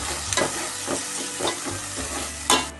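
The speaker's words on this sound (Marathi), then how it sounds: "आणि चांगलं मस्त त्याच्यात परतून घेते" Onion and spice masala frying in oil on a low flame, sizzling steadily while a spoon stirs it in repeated scraping strokes, close and alone.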